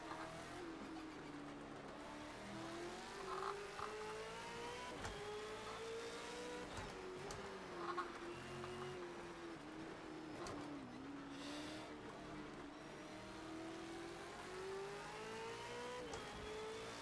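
Touring car engines race around Mt Panorama in Project CARS 2. A lead engine sweeps up and down through gear changes and revs, with other cars, faint tire squeal and a few sharp knocks mixed in. The level stays moderate and constant.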